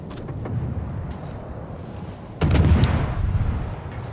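A warship's gun volley in World of Warships booms in with a sudden loud blast partway through, following quieter rumbling battle noise and a rolling, reverberant tail.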